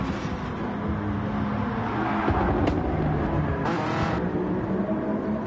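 Race car engines drone loudly and continuously down a straight in Gran Turismo Sport at Autodrome Lago Maggiore, with a steady high engine whine and a couple of brief bursts of added noise.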